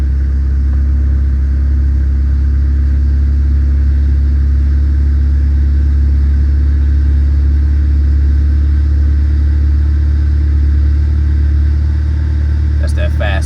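A 1997 JDM Honda Accord wagon engine runs at a steady, loud fast idle, a deep, even drone with a faint click near the end.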